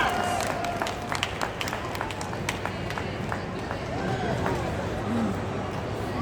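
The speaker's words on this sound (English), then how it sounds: "Everybody, let's give Pablo a big round of applause as he shows off how a seal would do on land." Audience clapping and crowd noise at a sea lion show in a West Edmonton Mall arena, a patter of applause running under a presenter's amplified speech.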